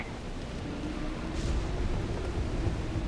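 Storm with rumbling thunder in Mass Effect 3 on Mars, a steady, heavy roar of wind and rain with low rolling thunder and a slight swell midway.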